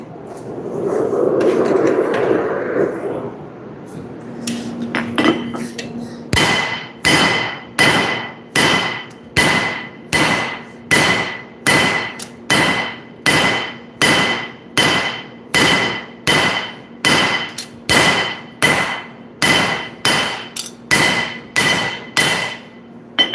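Steel being hammer-forged for nakiri knives: after a stretch of noise, a steady, rhythmic run of about twenty sharp, ringing hammer blows, loud and close, with a faint continuous hum beneath.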